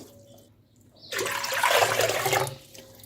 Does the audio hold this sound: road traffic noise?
no